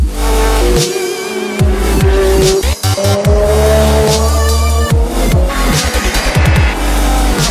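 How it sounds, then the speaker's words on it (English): Onboard a Ferrari Challenge race car climbing a hill at Road America, the loud engine note rises through fourth, fifth and sixth gears, each shift marked by a sudden drop in pitch before it climbs again. "as we start to climb the hill up through the gears, fourth, fifth, sixth, as we approach seventh gear"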